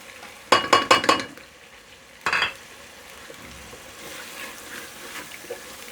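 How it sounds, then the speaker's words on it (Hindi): Chickpeas and chicken frying with spices in a pan for chana chicken, with a quick run of sharp stirring scrapes near the start, another burst a moment later, then a low steady sizzle. "अब इसको हम भूनेंगे"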